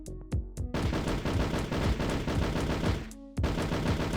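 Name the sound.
gunshots in a Doom-style FPS video game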